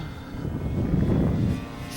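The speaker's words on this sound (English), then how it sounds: "This is at half throttle. It's a 6-pound plane." A giant six-pound RC P-51 Mustang model plane drones at half throttle, a steady buzzing propeller engine that swells slightly as it passes, fairly close and alone without voices.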